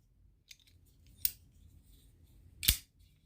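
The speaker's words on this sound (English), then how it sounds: "It has like a really snappy clunk sound when it opens." An Asher folding knife snaps open with a sharp clunk, two crisp metallic clicks standing out over near silence, each short and close.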